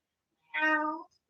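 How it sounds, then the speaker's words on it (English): An old cat lets out a single raspy, drawn-out meow, close and fairly loud, demanding food, with no talking around it. "I might have to pause here to feed the cats in a second because the old cat is making her demands known."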